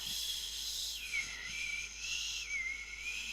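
A person whistles a thin, breathy, wavering tone in a few faint attempts, with hissy air noise around the pitch and small pauses between efforts.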